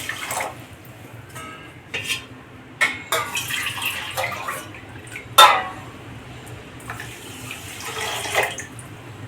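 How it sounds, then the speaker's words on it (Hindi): Water poured from a bowl onto sugar in a pot to make syrup for gulab jamun, heard as splashing bursts with clinks of dishes and utensils in a kitchen, fairly close and moderately loud. "जिस कटोरे से हम चीनी डालें उसी से पानी भी डालेंगे।"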